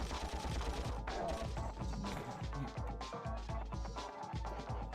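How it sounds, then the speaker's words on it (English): Gunfire in the video game Ratchet & Clank, a dense volley of loud, crackling shots layered over game music and effects, continuous throughout without pause. "The realistic gunshot sound effect from those guys is kind of hilarious."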